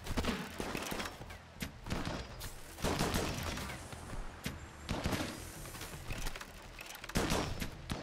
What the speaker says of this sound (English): Was that a triple rocket?